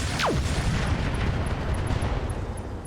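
An ammo explosion erupts on a Mad Cat Mark II mech in the RogueTech video game: a loud, dense blast with a falling whistle at the start, followed by a sustained roaring rumble close by.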